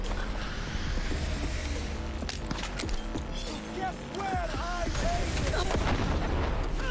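An automated turret fires repeatedly during a Cyberpunk 2077 gunfight, sharp bursts and booms layered over game music and chaotic combat effects, with a voice heard talking in the mix.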